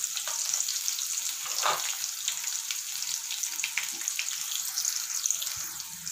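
Dried red chillies fry in hot oil with a steady close-up sizzle, crackling pops scattered throughout and a few faint clinks near the end.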